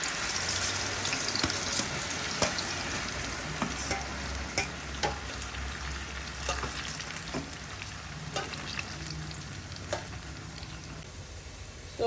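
Diced ripe plantain frying in hot oil, a continuous close sizzle and crackle with faint stirring clicks and scrapes scattered through it, no voices.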